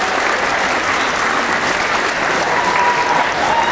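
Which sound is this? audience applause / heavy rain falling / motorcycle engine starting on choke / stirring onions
audience applause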